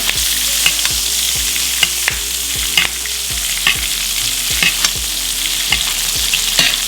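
Scallops sear in a pan as foaming butter with sage, rosemary and garlic is basted over them, a loud continuous sizzle punctuated by regular spoon clinks and scrapes against the pan.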